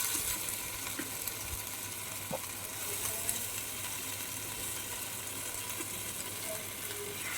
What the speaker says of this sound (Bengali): আমি বড়াগুলি এপিট ওপিট করে ভেজে নেব লাল লাল করে